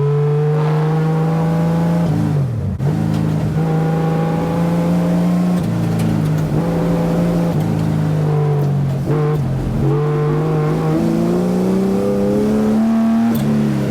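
A Porsche MR 913 BB race car engine with a five-speed gearbox drones steadily at high revs, its pitch climbing and dipping through shifts as it accelerates, loud and close throughout.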